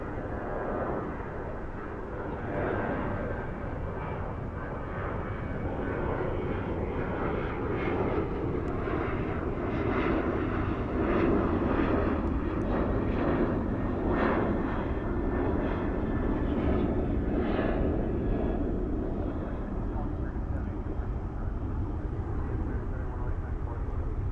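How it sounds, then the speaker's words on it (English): A Boeing 737-800 jet climbs away at night at DFW on a shallow departure, a loud, steady engine roar that stays sustained and broad throughout with no talk over it. "This 737-800 taking a shallow departure."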